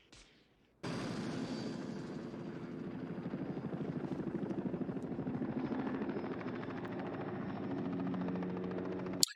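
Helicopter from the 1982 film The Thing, rotor chop starting abruptly and then holding steady and loud as a rhythmic beating drone with turbine whine, continuing without speech.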